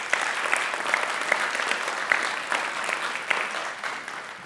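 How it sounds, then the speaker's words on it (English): An audience at a live talk applauds, a dense patter of many hands clapping steadily for a few seconds without a break, with no one speaking over it. "Please give him a round of applause for his question."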